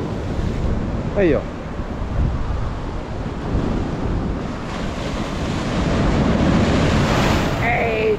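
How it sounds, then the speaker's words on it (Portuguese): Sea waves surge onto Boa Viagem beach in Recife with a continuous heavy roar buffeted by wind, swelling louder toward the end, while someone speaks briefly. "Parece que o mar tá aqui em cima, parceiro"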